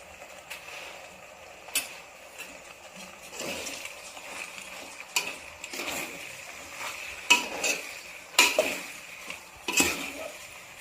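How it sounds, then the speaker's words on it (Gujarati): Pasta in red sauce with spices is stirred in a pan, a soft scraping churn with scattered clinks of the utensil against the metal, fairly quiet and alone without talk. "બધા મસાલા સરસ મિક્સ થઈ જાય એ રીતના આપણે પાસ્તા હલાવી લેવાશું"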